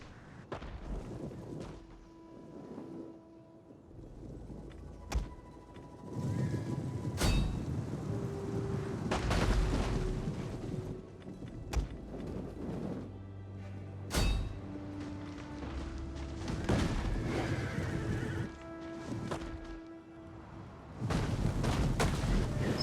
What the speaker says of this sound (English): So now we're firing at these heavy horse.